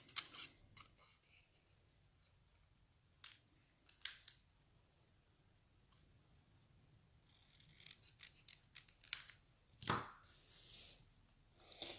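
Scissors trimming a paper card sentiment for a simple Christmas card make a few quiet, crisp snips, scattered and close, with a denser run of cuts and rustling paper toward the end, no talk.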